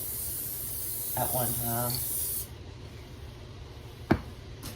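Adhesive spray hisses from a can onto a wall being prepared for Dollar Tree tiles, a steady close spray lasting a few seconds. A voice speaks briefly over the start, and a sharp tap follows later.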